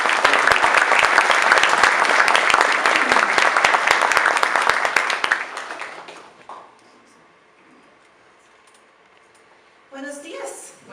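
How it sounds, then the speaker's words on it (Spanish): Loud, sustained applause from a church congregation welcoming a woman preacher, dense clapping that fades away after about six seconds, followed by quiet and then a brief spoken voice. "recibamos a nuestra predicadora con un cariñoso aplauso"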